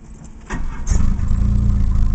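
A brief crank and click give way to a 1987 Dodge Omni engine with no muffler catching and rumbling into a low, steady run.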